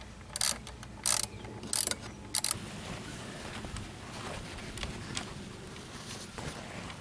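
Ratchet clicks while two screws are driven back in on the power steering reservoir of a 2005 Dodge Grand Caravan SXT: a few short, bright bursts of clicking in the first seconds, then quiet shop background with light handling noise.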